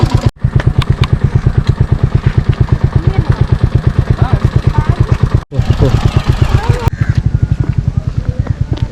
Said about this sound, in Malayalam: ബൈക്ക് കണ്ടോ പോകുന്നേ?